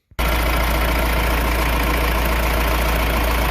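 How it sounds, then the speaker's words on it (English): A 2019 ROXOR's diesel engine idles at about 850 RPM, a loud, steady, slightly rattly rumble that kicks in right after a brief start and runs on close by without any talk. "It is a diesel, kind of rattly, but overall, that engine right now is running about 850 RPMs"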